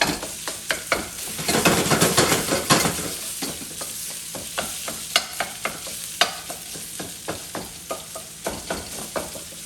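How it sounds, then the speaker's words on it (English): Ground pork stir-fried in a wok, a wooden spoon knocking and scraping in quick irregular strokes over a constant loud sizzle, close and without speech. "you want to break up the pork as much as possible. Use the wood spoon a little bit"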